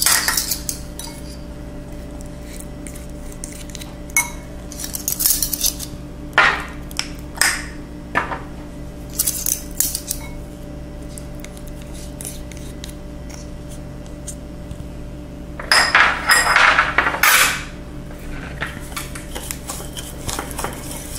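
Bath salt ingredients are mixed with coconut oil in a bowl, bringing quiet grainy stirring broken by sharp clinks and scrapes of a utensil on the bowl, with a louder cluster of clatter near the end, no voices.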